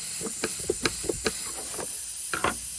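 A steady, harsh hiss of refrigerant escaping from a punctured A/C suction line on a Honda Crosstour runs throughout, with faint clicks and knocks over it, close by and fairly loud.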